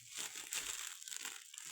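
Plastic packaging around a purchased collectible from a Japanese resale order is handled and pulled open, a brief close crinkling and rustling lasting under two seconds.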